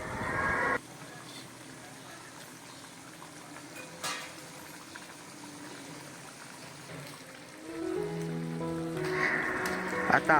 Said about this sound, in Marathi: एक उकळी आलेली आहे.